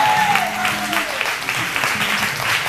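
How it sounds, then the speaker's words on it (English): Church congregation in Sanford, North Carolina clapping hands during a gospel service, a steady dense patter of many hands with a sustained tone fading out at the start. "Give God a hand clap,"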